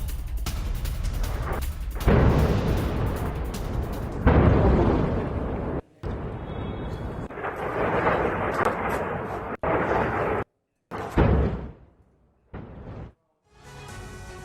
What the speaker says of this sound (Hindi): मेहराबाद हवाई अड्डे के पास धमाका हुआ।